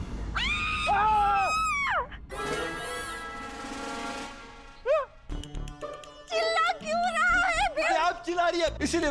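A woman screams in a Hindi TV drama scene, several shrill, wavering cries in bursts, loud and close, followed by other voices shouting and speaking excitedly.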